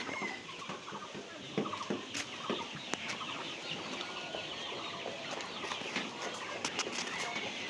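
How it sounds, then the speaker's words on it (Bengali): Chickens on a village poultry farm cluck and crow steadily, a dense layer of overlapping fowl calls with sharp clucks and occasional louder squawks, close and continuous throughout. "আপনাদের একটু মুরগির খামারটা দেখাবো"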